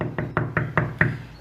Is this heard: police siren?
no